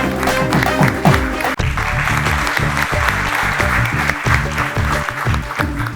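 Audience applause for a makeup team at a comedy show, a dense continuous wash of clapping that stays loud throughout, with music tones at the start and sharp rhythmic thumps running underneath.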